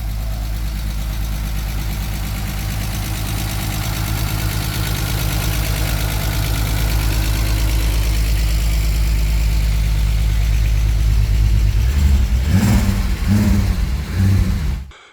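A BMW E36's engine, newly fitted with an 8HP automatic transmission, idles steadily with a low, even rumble, close and loud for a long stretch, then a few louder pulsing revs before it cuts off.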